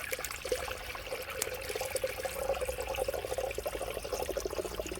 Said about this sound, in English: Now I'm just going to add water to it.